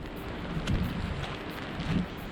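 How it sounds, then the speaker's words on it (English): Steady rain falls outdoors in a soft continuous hiss, with a few heavier low rumbles that may be distant thunder or wind. "So today it's raining."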